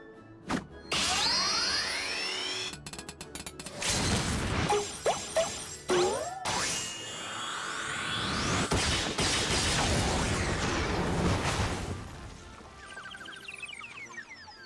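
Heavy hammer smashing in Final Fantasy XIV, with a run of loud crashing whacks and shattering impacts amid game effects, busy and close throughout.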